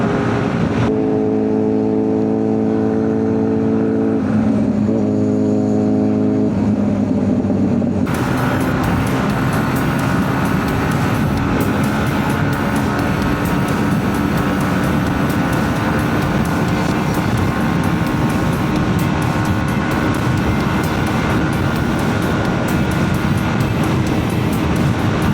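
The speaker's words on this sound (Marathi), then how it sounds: "हायबुजाला 2 सायलेन्सर असतात आणि भावानं 2 काढलाय आणि एकच गेलाय त्यामुळे आवाज तर त्यात डबल झालाय" A Suzuki Hayabusa superbike with one of its two silencers removed roars loudly up close, a harsh, sustained exhaust blast that begins after a quieter engine hum during a group superbike ride.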